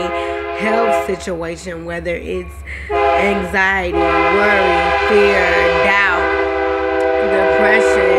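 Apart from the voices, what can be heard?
passing train with horn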